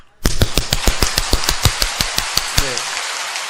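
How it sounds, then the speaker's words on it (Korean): About fourteen sharp, evenly spaced hand claps made with flat palms pressed together as in prayer, loud and close in a steady rhythm, with a single brief spoken word near the end. "처음에 박수를 그냥 치지 마시고 손바닥을 쫙 펴서 합장하듯이 치는 거예요"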